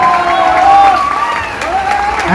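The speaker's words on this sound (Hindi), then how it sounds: "मैं चाहता हूँ एक जोरदार तालियां होना चाहिए गुरु जी के लिए।" An audience at a celebratory speech event in Sasaram gives a guru loud, steady applause, with crowd noise and some voices running through the clapping for the whole stretch.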